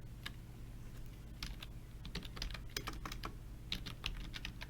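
Fast typing on a computer keyboard, with quick irregular bursts of close, crisp key clicks running throughout over a low room hum, no speech.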